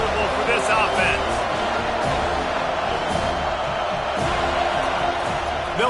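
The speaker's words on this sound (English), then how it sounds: "This crowd trying to make life miserable for this offense." Stadium crowd roaring throughout a college football video game matchup between Tha North and Florida State, a dense, steady wall of cheering with commentary running over it.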